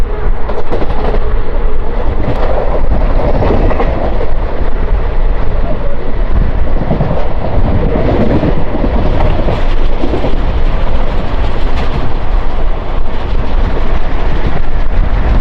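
The Palnadu Superfast Express, running with ICF coaches, rushes through Ghatkesar railway station without stopping. The run is loud and close, with a constant roaring rumble and rattling clatter of wheels and carriages.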